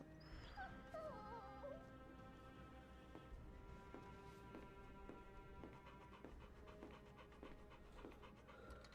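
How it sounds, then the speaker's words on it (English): Torgal, a dog in Final Fantasy XVI, panting and whimpering in rapid, quiet breaths, with a few high rising whines early on, under soft game music. "Torgal is such a cute puppy."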